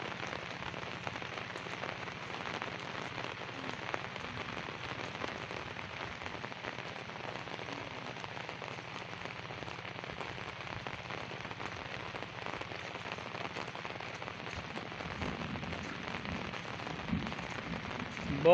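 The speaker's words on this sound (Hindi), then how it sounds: "बहुत ज़्यादा बारिश हो चुकी है" Steady heavy monsoon rain pours down over fields in Punjab, Pakistan, a dense hiss of drops hitting surfaces with no pauses and a slightly stronger patter near the end.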